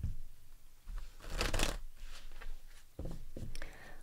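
Tarot cards are shuffled in a few quick riffling bursts, crisp and close, with brief pauses between them.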